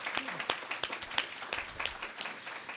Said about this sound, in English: I think both of our speakers deserve another wonderful round of applause